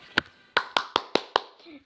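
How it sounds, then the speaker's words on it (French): Six sharp hand claps ring out close and fairly crisp, spaced roughly a fifth of a second apart after a short opening gap. "On peut l'applaudir."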